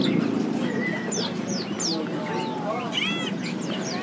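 Several birds at a bird market chirp and whistle in short repeated calls with some soft cooing, fairly close, over a steady murmur of market voices and background noise.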